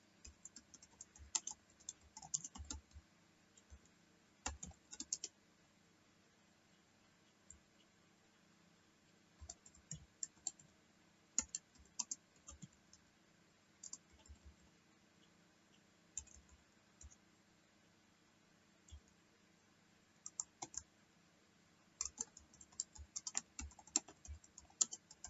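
Quiet clicking of keys on a computer keyboard comes in irregular bursts separated by short pauses, close by and faint, with no talking.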